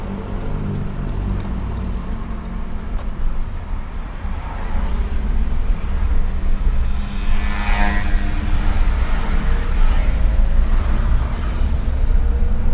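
A used car's engine hums while driving, with the body said to vibrate at speed. A steady low rumble carries on throughout and grows slightly louder midway.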